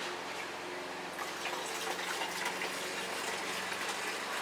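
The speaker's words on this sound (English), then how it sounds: "I'll pour some fuel in there." Fuel pouring into the tank of an old Suzuki 230 motorcycle that has not been started in a long time, a steady gushing liquid trickle that continues throughout, close and moderately loud.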